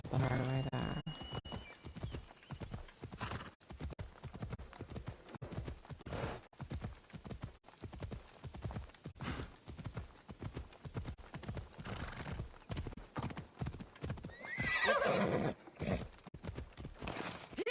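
Steady hoofbeats clop along at a walking pace in Assassin's Creed Odyssey, and a horse whinnies loudly near the end.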